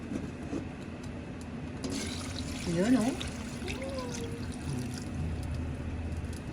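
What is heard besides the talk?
coconut milk poured into pot of boiled nipa palm heart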